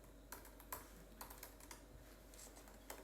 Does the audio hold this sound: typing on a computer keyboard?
yes